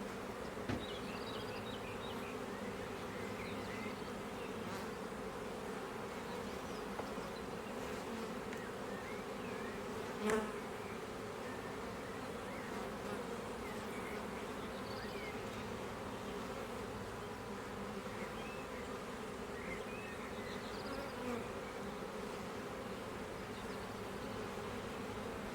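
Honey bees buzzing at an open hive being smoked during beekeeping in Italy: a constant, soft, droning hum of many bees nearby, steady throughout with one brief knock, and no talking.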